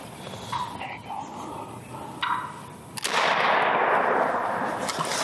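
A single loud gunshot during a Wisconsin turkey hunt booms out after a few quiet seconds of outdoor ambience and faint bird calls, its roar lingering and echoing across the field.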